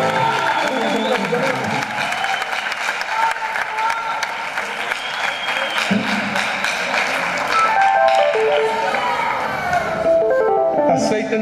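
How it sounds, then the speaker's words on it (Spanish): Church congregation at a healing service applauding loudly and continuously, a dense crowd clapping with scattered cheers and tapping that fills the room throughout, with music or voices mixed in. "Fuerte el aplauso al Señor, hermano."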